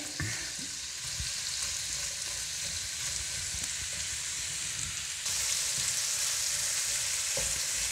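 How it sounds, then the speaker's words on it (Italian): Artichokes browning in a hot pan give a steady, close sizzle and crackle with occasional stirring knocks; the frying grows brighter and louder partway through and continues without any talking. "Alzo la fiamma e faccio rosolare i carciofi"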